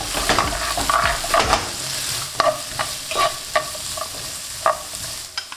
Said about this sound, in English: Give that a mix and lightly saute.